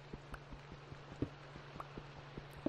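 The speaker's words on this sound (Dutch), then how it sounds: "Och, het begint nu al te regenen." Rain in Minecraft, a faint steady patter of soft, evenly spaced drops over a low hum, with no other sounds standing out.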